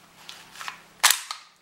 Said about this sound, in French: On remet le Glock, tac, on fait glisser la culasse.